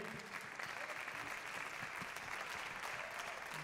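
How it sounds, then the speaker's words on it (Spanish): Audience clapping after a live swing music performance in Spanish, a steady, fairly faint wash of applause with a voice faintly underneath. "Fuerte aplauso para Javier Sánchez."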